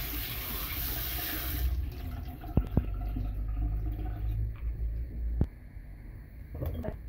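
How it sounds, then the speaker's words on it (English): Steady rush of cold tap water pouring into a sink, then quieter running with a few knocks and clunks as potatoes are rinsed under the stream. "run them over cold tap water"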